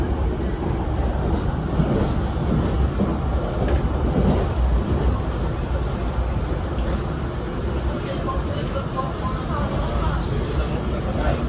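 Steady rumbling and rattling of the Argo Wilis panoramic passenger train rolling along the rails past Gombong station, heard from inside a carriage, with faint chatter in the background.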